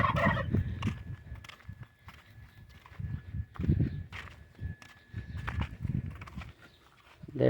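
Turkeys gobble in short, intermittent bursts close by, while footsteps shuffle and crunch around them outdoors, and a dog walks along; nobody talks.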